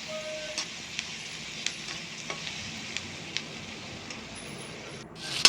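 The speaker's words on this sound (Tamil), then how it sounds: "நல்லா வதக்கிட்டே இருக்கலாம்" Okra kara kuzhambu ingredients sautéed in a pan give a steady soft sizzle with intermittent stirring scrapes, close and moderately quiet, a louder clatter right at the end.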